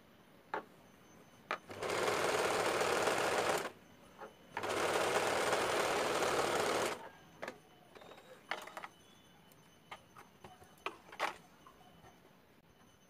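Sewing machine stitching a size-32 frock runs in two steady bursts of about two seconds each, loud and close, followed by scattered clicks and light handling sounds of fabric and parts.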